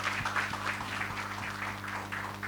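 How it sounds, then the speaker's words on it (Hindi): Audience applause at a tribute trailer launch event for the film Border 2, a steady wash of many hands clapping at moderate volume, continuous throughout with no talking over it. "इस बात के लिए तालियां बजाई जाएं पहले तो।"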